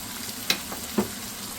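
Frozen peas frying with masala in a pan make a continuous sizzle, broken by two sharp spoon clinks against the pan about half a second apart and a faint scrape toward the end.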